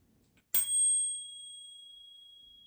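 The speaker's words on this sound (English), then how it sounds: "one of the older bells I actually have had and used in the past" A single bright ding of a bicycle bell, struck once and left to ring out with a thin, sustained metallic tone that fades slowly.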